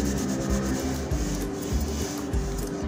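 Light rubbing to remove pencil and crayon marks from a painted wall, a continuous scratchy back-and-forth scrubbing with a steady rhythm, close and fairly loud, with no talk over it.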